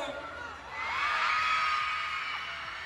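A crowd at a live event shouts together on cue, building into a loud, sustained roar of many voices with high whoops that swells and then tapers slightly, heard close and filling the space.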